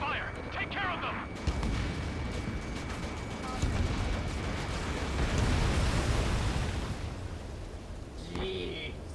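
Heavy gunfire and explosions fill a Mission Sixteen air battle in Ace Combat 7. A continuous roar of flak and blasts is joined by short radio voice chatter at the start and end.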